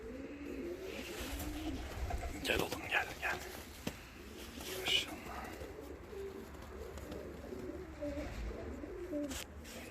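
Fancy costume pigeons coo repeatedly in soft, rolling calls close by, while someone talks over them and faint background noise continues.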